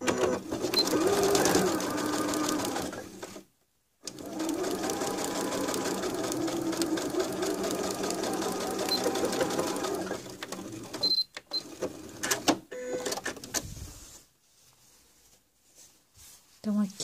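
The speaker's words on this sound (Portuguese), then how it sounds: "Então, vamos à costura." A sewing machine stitches a mitred bias binding seam, running in a steady mechanical whirr for several seconds, pausing and starting again, then slowing to short bursts with quiet gaps near the end.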